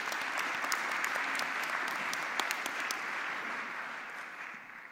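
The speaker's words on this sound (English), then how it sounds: "let's give an applause to both authors of both papers" Warm audience applause at the IJCAI 2017 opening ceremony: a large hall of steady, dense clapping with a few sharper claps standing out, tapering slightly toward the end.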